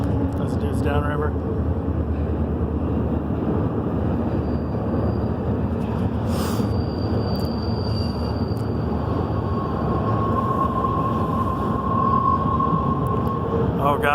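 A passing train rolls by at a steady, loud level for a long stretch, with a brief squeal and a sustained tonal whine partway through, under occasional talk.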